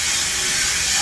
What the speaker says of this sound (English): I'm going in with some flexible holding spray. It's Sebastian Shaper Plus.